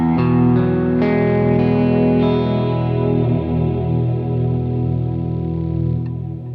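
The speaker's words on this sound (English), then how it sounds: "this plugin is not only great for creating those sort of shimmer guitar parts" A distorted electric guitar played through a shimmer effect plugin rings out in sustained chords, with a washy, bright, reverberant tail that lingers and swells, loud and continuous, no voices.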